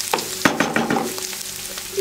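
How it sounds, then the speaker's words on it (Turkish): Onions and minced meat fry and sizzle in a pan, with repeated scraping strokes of a spoon stirring the mixture, loud and close throughout. "Şimdi soğanla kıymayı bir süre kavuracağım."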